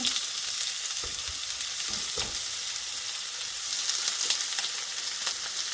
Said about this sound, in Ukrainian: І смажу її до напівпрозорості.